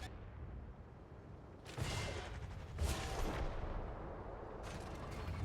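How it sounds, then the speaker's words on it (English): Deep muffled booms from a Sturmtiger's heavy gun firing in a tank game, a few distant blasts rising out of constant rumbling engine noise. "Storm Tiger just fired. You can actually hear whenever that thing fires."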